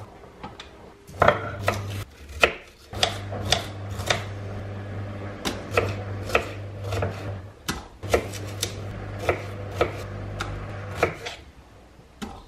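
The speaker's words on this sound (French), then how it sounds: "Donc là j'ai émincé mes oignons" A knife chops through onions on a cutting board in a steady series of sharp, close knocks, with a low steady hum underneath and no talking.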